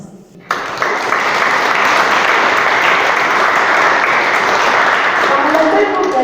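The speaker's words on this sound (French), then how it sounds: "Nous pouvons les applaudir." Church congregation applauding during a Trinity Sunday service, a loud, dense and steady burst of clapping that starts abruptly and continues without a break to the end.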